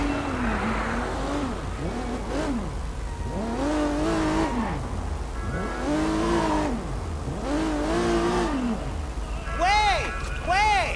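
A car in the video game Sleeping Dogs revs through repeated rising and falling engine sweeps as it accelerates and shifts, fairly loud, with a player talking over the driving.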